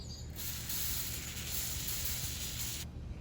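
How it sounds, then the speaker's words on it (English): Steady close hiss of an aerosol can spraying pruning seal onto the freshly cut stub of a fig tree branch, one continuous burst of about two and a half seconds that starts and stops abruptly. "the pruning seal was sprayed on the area that was cut off"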